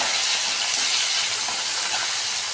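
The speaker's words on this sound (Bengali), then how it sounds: "পেঁয়াজটা একটু লাল লাল করে ভাজা হবে" Onion frying in mustard oil in a pan, a steady broadband hiss and sizzle that fills the whole clip at close range with no talk.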